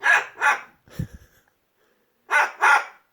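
A dog barks outdoors at a squirrel, with two quick loud barks, a short low whimpering growl, a pause, then two more close barks.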